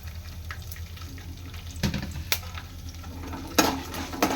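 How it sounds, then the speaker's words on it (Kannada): Soft, steady sizzle of peanuts and spices frying in a pan, broken by a few sharp scraping taps of a spoon against the metal. "ಇದು ಮೂರೂ ಸ್ವಲ್ಪ ಚೆನ್ನಾಗಿ ಫ್ರೈ ಮಾಡ್ಕೊಳ್ಳೋಣ"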